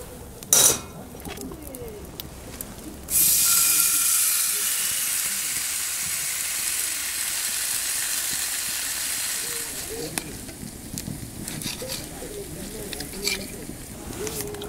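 Marinated pork steak sizzles in an iron frying pan at an outdoor seaside camp, a steady loud hiss that swells in after a few seconds and holds, then eases back amid faint rustles.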